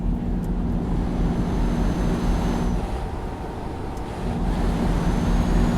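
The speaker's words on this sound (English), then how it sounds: "Listen to that engine noise." Low, steady drone of a truck engine cruising in Euro Truck Simulator 2, a constant rumbling hum with a soft whine on top, loud and uninterrupted with no talking.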